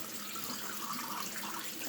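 Tap water runs steadily while a whole raw chicken is rinsed out in a kitchen sink, a constant close splashing hiss that holds through the clip with no voices.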